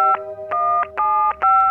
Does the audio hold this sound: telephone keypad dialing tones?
yes